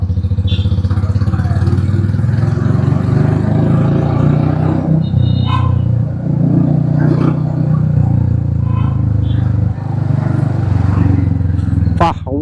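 A scooter with an aftermarket exhaust idles and revs in first gear, its deep rumbling drone continuous and loud beneath someone talking over it.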